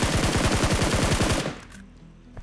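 A gun in the video game BGMI fires one fast automatic burst of evenly spaced, loud, close shots that ends abruptly and leaves a faint tail behind.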